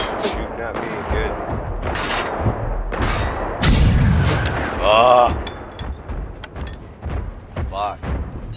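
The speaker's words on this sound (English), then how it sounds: "Shooting at me, good." Gunfire in the video game Generation Zero Resistance, repeated loud shots and heavy booming blasts in bursts, with players talking between them.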